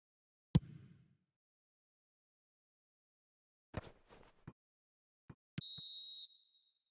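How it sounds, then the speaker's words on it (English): Half-time referee whistle in the eFootball video game, a single bright sustained blast near the end of the clip, following a few sharp knocks and clicks separated by near-silence. "There's the whistle for half-time."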